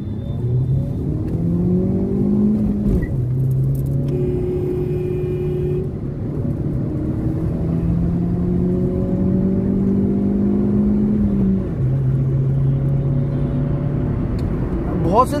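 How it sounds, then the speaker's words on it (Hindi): Hyundai i20 Active running on CNG accelerates hard through several gears, its engine note rising and dropping at each shift, loud and close from inside the car under steady road and wind noise. "अब मैं आपको ये गाड़ी को भगा के दिखाता हूँ"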